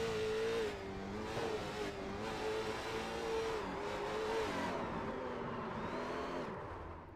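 A race car engine at Hickory Motor Speedway roars steadily from inside the cockpit, pitch rising and dropping through gear changes and corners, loud and continuous.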